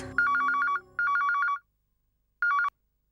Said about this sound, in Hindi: मैं संजय को फोन करती हूँ।